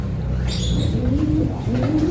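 Pigeons coo in low, rolling murmurs close by in an aviary, with a few faint chirps and a brief flutter of wings in the background.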